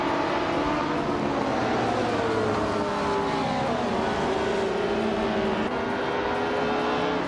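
Race cars launching off the line in a racing game, among them a classic 1968 Porsche 909 Bergspider, producing a dense, continuous engine roar with overlapping revving tones, steady and loud with no talk.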